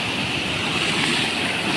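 Big ocean waves at Puri beach roar in a continuous wash of surf, with a touch of wind in the background.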